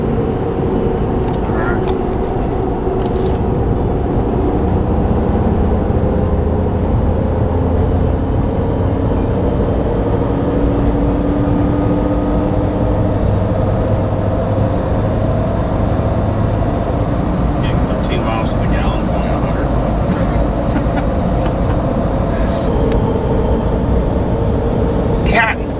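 A pickup truck accelerates steadily down a straight open road, a continuous loud engine and road drone heard from inside the cab with rising tones, under ongoing conversation.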